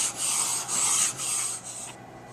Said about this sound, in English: I'm just going to rub the face of the blade like so